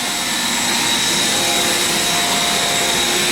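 A vacuum cleaner drones steadily at close range, a loud continuous whine with a high tonal edge as someone cleans out a Pontiac during a rebuild, with no talking.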